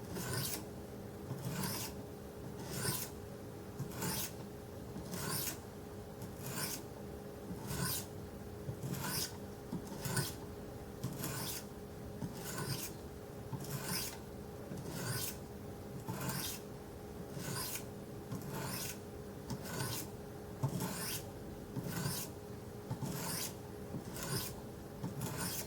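Light sharpening strokes of a 400 grit stone on a Wicked Edge knife sharpener, a steady series of evenly spaced raspy scrapes repeating about once a second, close and clear with no talking.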